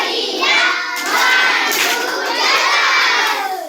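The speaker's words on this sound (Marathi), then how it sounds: "आता स्वतःसाठीच आपण बढिया टाळी वाजवायची" Children in a classroom word game clap for themselves, a dense, continuous burst of applause mixed with excited shouting that lasts a few seconds without pause.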